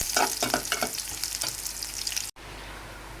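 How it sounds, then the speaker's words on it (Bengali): Dal being tempered with dried red chillies, onion and garlic in hot oil, a loud close sizzle with scraping stirs, then a brief cut to a steadier, softer frying hiss. "তো শুকনো মরিচ দিয়ে আর পেঁয়াজ রসুন দিয়ে ডালটা বাগার দিয়ে নেব এখন।"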